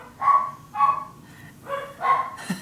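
Several dogs bark at a postman in a domestic setting, giving about four distinct bursts of barking spread over a few seconds, with a short yip at the end.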